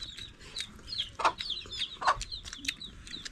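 Chicken clucking in short repeated bursts with a few louder squawks, fairly near and moderately loud against a quiet rural background.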